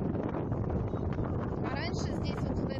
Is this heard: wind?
yes